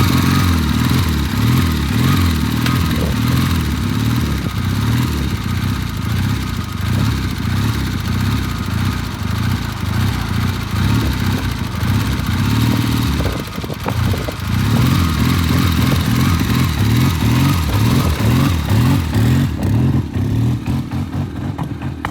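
A vintage British motorcycle starts and revs hard, its loud steady engine drone running throughout with a brief dip near the middle before picking back up.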